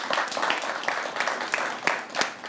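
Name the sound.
audience applause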